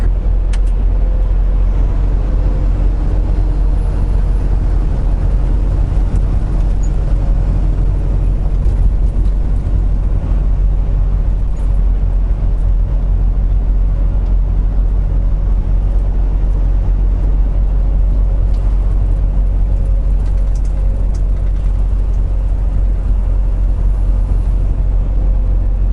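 A car drives along a scenic road with corners, a steady, loud low engine and road rumble heard from inside the cabin, continuous and unbroken.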